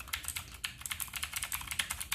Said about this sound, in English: The clicks are good. It is a mechanical keyboard